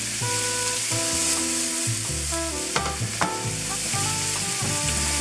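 Onion sofrito fries and caramelizes in a pan for soaked beans, a steady sizzle partly masked by loud sustained music with a few clattering stirs.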